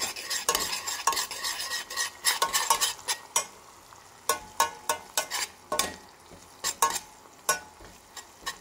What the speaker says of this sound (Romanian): Așa, mestecat tot timpul.